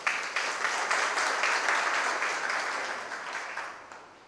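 An audience at a Tamil pattimandram debate speech claps in a loud, dense burst of applause that holds steady and then gradually fades out.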